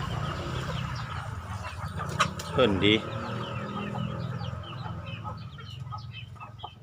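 Domestic chickens cluck in a steady farmyard background, with a brief louder squawk partway through and a short spoken phrase.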